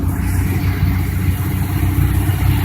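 A Ford Mustang's 200 cubic inch inline-six idles just after starting, a loud, steady close-up rumble with even low pulsing and no change in revs.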